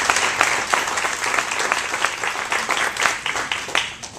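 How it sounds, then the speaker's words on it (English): An audience applauds at a mayor's press conference held at the Salvation Army, a dense round of many hands clapping at close range, steady and lively throughout, with no voices over it. "So let's give them a round of applause."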